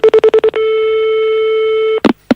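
A telephone answering a requested callback: a rapid burst of six dial tones, then a long steady electronic tone lasting about a second and a half, loud and close, ending in a brief clatter.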